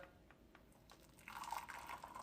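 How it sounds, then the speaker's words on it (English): Boiling water is poured from a kettle over a tea bag in a cup, a soft liquid trickle that swells into a steadier filling gurgle partway through, close by with no talk. "I'm going to add some boiling water"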